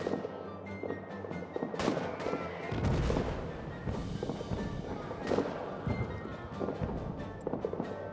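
Artillery fire in the World War I trench game All Quiet in the Trenches: faint, distant booms and scattered gunshots thud at irregular intervals beneath a low battlefield rumble, with no one speaking.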